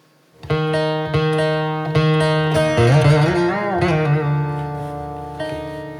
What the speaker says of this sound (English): Here if I use a kadan or a spuritam on the veena, it's going to sound like